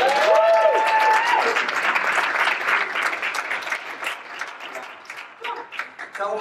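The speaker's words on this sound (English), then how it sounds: "Give him a round of applause" An entrepreneur-center event audience breaks into loud, dense applause for the speaker, a sustained roar of many hands that gradually tapers into scattered claps, with a brief voice near the start.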